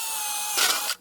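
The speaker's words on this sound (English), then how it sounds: "drill the pilot hole." A power drill boring a pilot hole before a 2 3/4 inch hole saw cut for a Pro XP Blaster install, a brief high whine that rises in a short burst and then stops.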